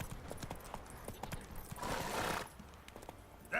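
Close, steady clip-clop of Roach's hooves as Geralt rides in The Witcher, with a breathy horse snort midway and a short sharp sound at the end.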